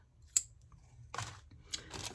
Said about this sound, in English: These are Wisp pinking shears.